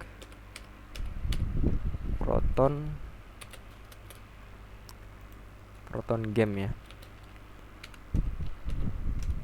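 Quick light keyboard typing clicks away steadily in the background while someone speaks in short stretches over it.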